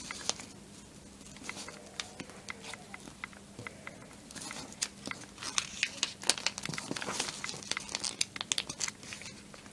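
Origami paper being creased and folded for a modular dodecahedron: soft, close crinkling and crisp rustles with scattered sharp snaps of the sheet, steady throughout with no talking.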